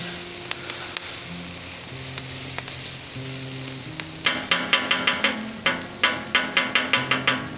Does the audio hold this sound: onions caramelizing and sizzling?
yes